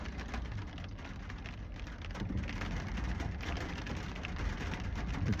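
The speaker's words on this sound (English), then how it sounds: "Rain confirmation." Steady rain pours down, a dense, even hiss of drops striking surfaces that holds at a constant level throughout, with no voices.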